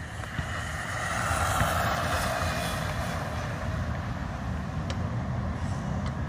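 An Arrma Mojave Grom brushless RC truck drives over rough ground, a steady whirring motor hum with broadband wind noise that holds at a constant level throughout.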